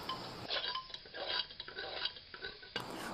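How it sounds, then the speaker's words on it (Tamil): A spoon scrapes and clinks against a pot as mint, coriander leaves and masala are sautéed for chicken biryani, with irregular metallic knocks and scrapes heard up close and no talk. "இது எல்லாத்தையும் ஒன்றா சேர்த்து வதக்கி விட்டுக்கலாம்"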